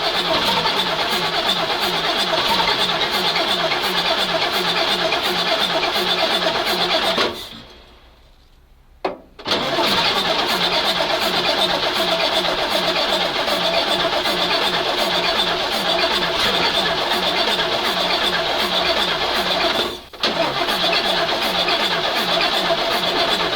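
A Praga V3S 6x6 truck engine is cranked repeatedly with quick-start spray, giving a loud, rhythmic grinding churn that stops briefly twice before resuming, close to the machine.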